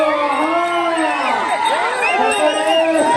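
A crowd at a bullock cart race in Yaganti, Banaganapalli, Nandyal district whistles and shouts, a dense burst of rising and falling whistles over loud cheering and babble, close and continuous.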